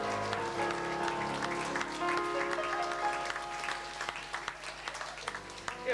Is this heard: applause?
yes